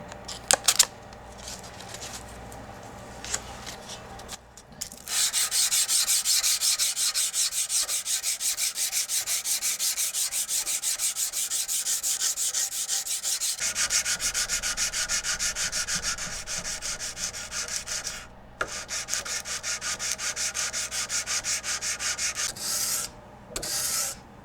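Sanding the bevels of a ram's horn handle knife blade, rapid rhythmic abrasive rubbing strokes close up, in long runs broken by brief pauses.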